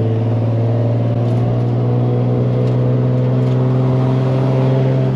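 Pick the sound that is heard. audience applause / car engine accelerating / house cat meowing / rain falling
car engine accelerating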